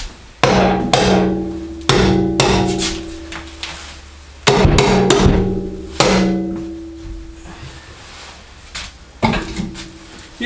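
Sharp metallic hammer blows ring out one at a time, about six strikes spaced irregularly, each leaving a short ringing decay, close by.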